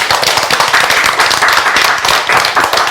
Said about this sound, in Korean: 우리 뭐 다 같이 감사의 박수.